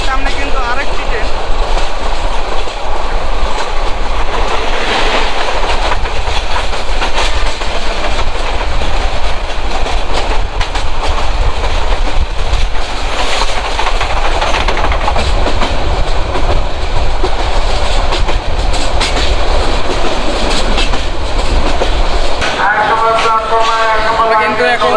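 The Mohanganj Express runs fast on its tracks, heard from aboard as a loud continuous rumble with rhythmic wheel clatter throughout, easing slightly near the end as another tone emerges.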